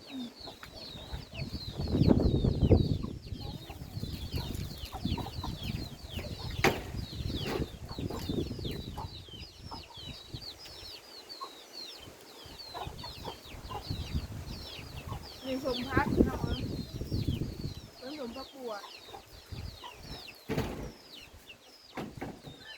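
Chickens cluck repeatedly close by, with brighter bird chirps scattered above them and people talking on and off throughout.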